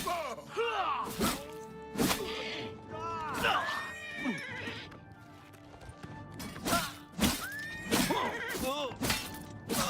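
Several horse neighs and whinnies from the Oblivion Remastered video game, some near and some farther off, mixed with occasional thuds and clip-clop steps.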